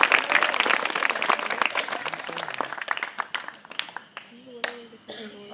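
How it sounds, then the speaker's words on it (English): A crowd at a summer camp campfire gathering claps for a high school council, dense at first and thinning into scattered individual claps, with voices calling out near the end. "Let's give another big round of applause for this high school council."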